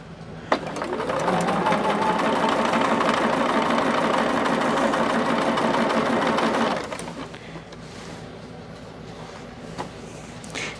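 A sewing machine stitches a quilt fabric seam in a steady, fast whirring run for about six seconds, then stops, leaving quiet room tone.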